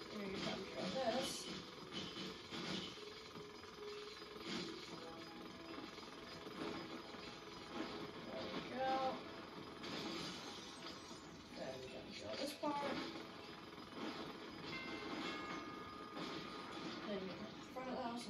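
Drilling in a LEGO construction video game set in Bricksburg, a continuous rattling jackhammer-like roar lasting throughout with small bursts, mixed with game sound effects.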